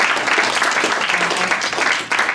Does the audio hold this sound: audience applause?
yes